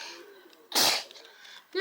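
One sudden, forceful sneeze erupts close by in the middle of a quiet room, followed by brief stillness and a faint breath.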